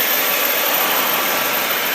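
A 2003 Chrysler Sebring convertible engine runs steadily at idle, a constant loud hum and whir close by with no breaks.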